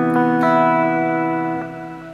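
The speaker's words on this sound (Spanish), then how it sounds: "tenemos un reverb que es un shimmer" An electric guitar chord through BIAS FX with a djent tone and a shimmer reverb rings out sustained and close, layered with high shimmering overtones before fading slightly.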